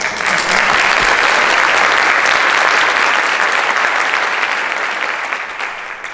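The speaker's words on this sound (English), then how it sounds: "Maybe give them a round of applause real quick" A large audience applauds school building principals at a district safety event, a loud, dense and steady wash of clapping that holds for about six seconds before easing slightly at the end.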